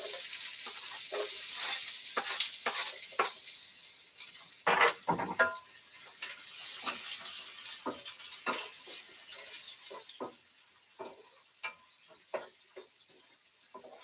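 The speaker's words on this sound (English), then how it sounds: "I'm just gonna add it to the oil" Chopped condiments for ackee and saltfish hit hot oil and sizzle steadily up close, with sharp clinks and scrapes of stirring breaking through the hiss as it gradually quiets.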